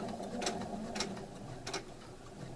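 A sewing machine stitches fabric on a beginner's coin purse, three short quick bursts of mechanical whirring over a faint steady room hum.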